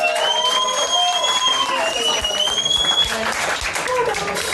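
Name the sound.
audience applause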